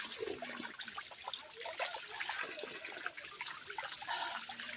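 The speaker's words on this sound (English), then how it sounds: "Real natural spring water guys." Natural spring water flowing at a river, a faint, continuous trickling and gurgling with small splashes heard close up and alone.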